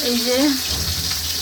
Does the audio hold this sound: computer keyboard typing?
no